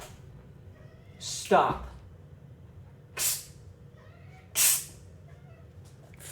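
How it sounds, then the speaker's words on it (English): A house cat meows several times indoors, one drawn-out cry followed by two shorter hissy calls, spaced a second or so apart, with a person talking in the room. "Fucking cat."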